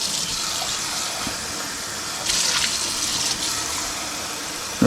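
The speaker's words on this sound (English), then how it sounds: "So what you can do, you can add some more water." Water pours steadily into a pot of chicken rice soup, a continuous close splashing rush that swells partway through and carries on with no one speaking.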